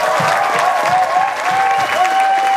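A graduation audience applauds the school principal with loud, continuous clapping and crowd noise, as a high tonal squeal runs through the applause.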